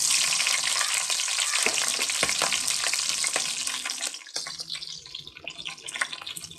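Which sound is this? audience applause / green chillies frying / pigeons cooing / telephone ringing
green chillies frying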